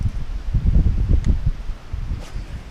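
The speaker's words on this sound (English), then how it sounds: "Super windy." Strong wind gusting at a fishing dock, a loud low rumbling buffet with rustling, steady and close throughout with no talking.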